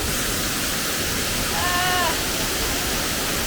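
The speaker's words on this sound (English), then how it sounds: "there's actually a waterfall." Steady broadband rush of a waterfall tucked behind a World Showcase pavilion at EPCOT, a continuous even wash of falling water with a faint brief tonal sound in the middle.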